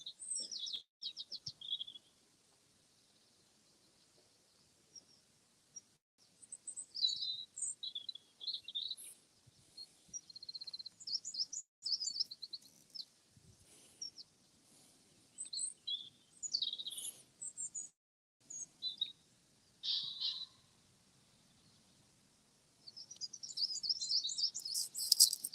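Birds chirp and tweet in a hushed outdoor setting during a quiet moment at a golf match, bright scattered calls in short bursts with near-silent gaps between them, faint and without talk.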